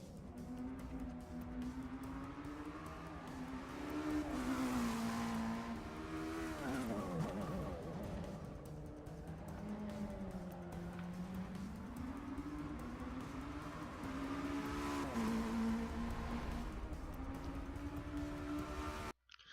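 Racing car engine in the Forza Motorsport 6 video game revving and shifting through gears on a track, loud and continuous with rising and falling pitch sweeps and occasional tire noise, no talk.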